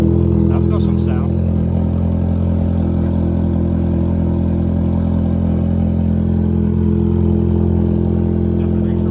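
Porsche Macan with a muffler delete and quad tips on fast idle, a loud, deep and steady droning rumble held close for the whole stretch.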